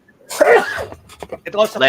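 A single sharp sneeze bursts out close by, followed at once by people talking over each other.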